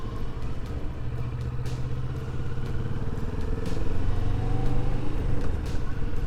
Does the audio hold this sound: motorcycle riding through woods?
yes